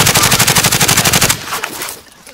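Rapid automatic gunfire from a video game shootout rattles in a steady, loud burst for over a second, then gives way to scattered quieter shots and distant battle noise.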